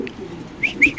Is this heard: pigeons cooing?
yes